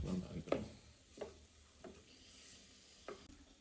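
Food being stirred in a pan in a kitchen, with several distinct scraping strokes spaced irregularly over a soft sizzle; fairly quiet and close, no talking.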